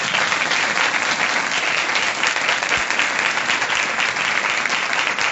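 A church congregation breaks into loud, sustained applause, dense and continuous clapping filling the room for several seconds with no speech over it.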